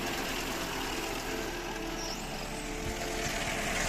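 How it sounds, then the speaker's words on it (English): A car engine idles after conversion to electronic fuel injection, a steady low hum with faint, even noise and no revving. "The engine is running right now."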